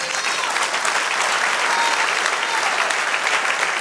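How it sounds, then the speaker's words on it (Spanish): A church congregation claps in praise during a Spanish-language service, a dense, even wash of applause throughout with no break. "De un aplauso al Señor."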